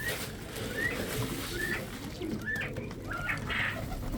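Quails in a pen make short chirping calls while feeding, several separate notes scattered over a few seconds, close but soft against a low background rumble.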